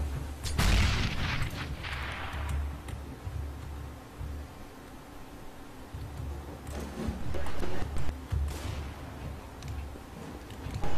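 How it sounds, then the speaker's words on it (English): A grenade explodes in the CS:GO video game with a loud, booming blast near the start, followed by further heavy, broadband bursts and rumbling impacts later on. "Grenade!"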